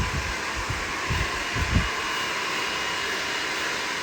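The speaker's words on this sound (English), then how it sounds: "Which hair dryer is that?" A steady, broadband whoosh of a hair dryer blowing close by, with a few soft low thumps near the start.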